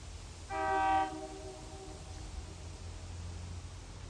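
A seven-car heritage railway passenger train on the York Durham Heritage Railway sounds a short horn blast, then a low, steady rumble of rail cars continues at a moderate distance.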